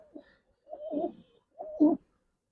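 Giribaz pigeons coo in three soft, throaty bursts, each a low rolling call separated by short pauses, close by and with no voices.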